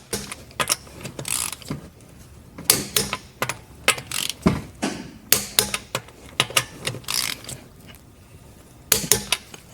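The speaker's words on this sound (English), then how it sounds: "So now we're gonna torque the lug bolt." Torque wrench tightening lug bolts on a Mercedes S550 rear wheel, close-up series of sharp ratcheting clicks and clacks in irregular bursts, with no talking.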